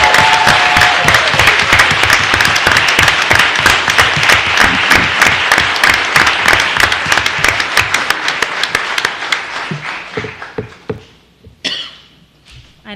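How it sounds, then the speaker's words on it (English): A room at a city council meeting breaks into sustained applause, many hands clapping loudly and evenly before thinning out to a few scattered claps and fading near the end. "Let's clap."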